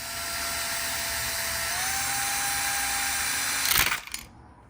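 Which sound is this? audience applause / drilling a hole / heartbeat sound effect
drilling a hole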